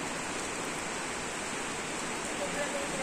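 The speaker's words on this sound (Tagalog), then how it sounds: "Grabe, lakas ng ulan." Heavy tropical rain in Davao pours down as a loud, dense, unbroken hiss that holds steady from start to finish.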